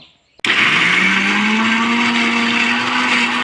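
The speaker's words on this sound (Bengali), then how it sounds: "আমি মিক্সিতে পেস্ট করে নিচ্ছি" A kitchen mixer grinder grinding lentils into a paste starts abruptly and runs loud and steady, a close whirring motor roar with a slowly rising pitch, heard alone.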